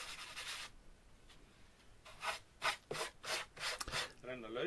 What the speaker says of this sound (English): Use the sandpaper lightly at first.